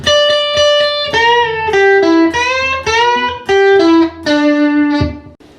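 A distorted electric guitar plays a short melodic riff of sustained, gritty notes and quick picked phrases, loud and up close with no talking.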